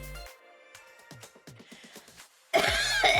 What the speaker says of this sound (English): that's why I'm coughing so much